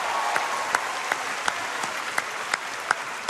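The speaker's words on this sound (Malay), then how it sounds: "Tepukan pada KJ dan Pemuda Harapan Bangsa." Audience applause for KJ and the youth wing at the UMNO general assembly presidential address, a dense sustained clapping from a large crowd filling a hall, with a few sharper claps standing out.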